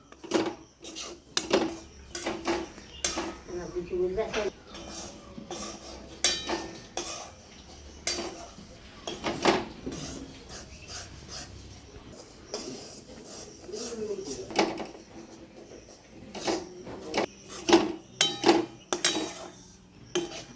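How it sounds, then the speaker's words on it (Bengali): Besan and maida peda mixture stirred in a pan, a steady run of close spoon scrapes and taps against metal that goes on without a break, with voices talking quietly underneath. "তো বন্ধুরা বেশ কিছুক্ষণ এটাকে নাড়াচাড়া করতে হবে, মোটামুটি প্রায় 10 মিনিটের মতো"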